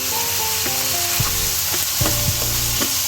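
Onions fry in a pan for a dried fish and egg curry, giving a loud, close, continuous sizzle with spoon scrapes and knocks against the pan.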